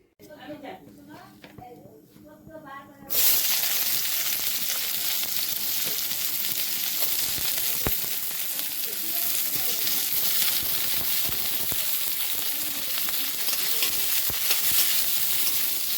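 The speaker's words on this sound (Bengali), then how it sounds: "বন্ধুরা, এখন মাছের তেল ভাজি করব, তো সেই জন্য পেঁয়াজটা দিয়ে দিলাম" Chopped onion drops into hot oil heated for frying fish fat and bursts into a loud, steady sizzle that fills the rest of the clip, after a few quiet seconds with a voice in the background.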